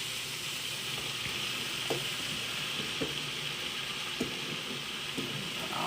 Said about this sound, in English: And now I'm gonna toss in my mushrooms and we're gonna saute